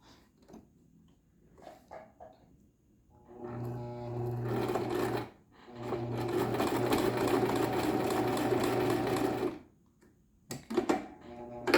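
A sewing machine runs top stitching through fabric in two sustained bursts with a brief pause between, loud and close, framed by quieter clicks and handling before and after.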